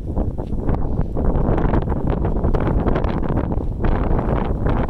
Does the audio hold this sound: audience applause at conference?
no